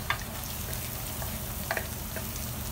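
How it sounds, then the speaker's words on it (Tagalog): Onions are sautéed with browned garlic for pork adobo, giving a continuous close frying sizzle with a few soft stirring clicks. "Mapula-pula na ang ating bawang, ilalagay ko na ang ating sibuyas"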